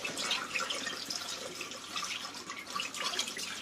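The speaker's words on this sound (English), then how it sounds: "I'll just wash my hands off." Hands washed under a running kitchen tap beside a mixing bowl, a steady splashing stream with shifting patters and drips as the hands move through it, close and fairly quiet with no talk.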